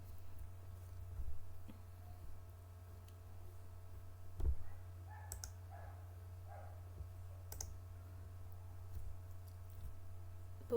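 Computer mouse clicks opening Google Classroom material, a few sharp, quiet clicks spaced apart over a steady low electrical hum in a quiet room.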